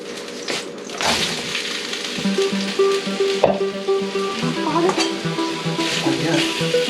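Vegetables frying in a pan with pork belly and peppers, a continuous close sizzle with clattering stirs and utensil knocks against the pan, no talking.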